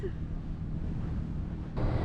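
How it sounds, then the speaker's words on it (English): Wind buffeting the microphone in low rumbling gusts aboard a Nordhavn 55 motor yacht on the Inside Passage in winter, growing heavier toward the end, with a hint of water nearby. "We are encountering some wind all of a sudden."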